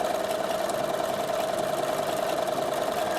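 A Bernina sewing machine stitches fabric at steady speed, a fast, even mechanical whir and needle chatter running close and loud throughout.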